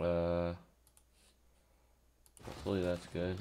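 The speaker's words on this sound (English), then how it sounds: "Hear that? That's the sound of a new keyboard." A few light keyboard clicks tap quietly between stretches of talking, sparse and close.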